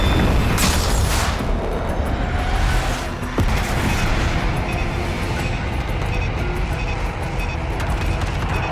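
Airstrike bombs pounding the ground in Call of Duty: Black Ops 6, heard as a dense, continuous roar of heavy rumbling explosions and blast noise, loud throughout with a sharper hit partway through.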